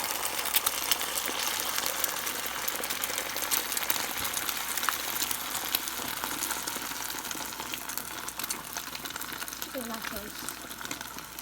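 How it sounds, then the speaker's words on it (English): An egg sizzles in hot oil in a pan, a steady broadband crackle and hiss that runs throughout, close and even, with small bubbling pops. "Gonna start frying the egg."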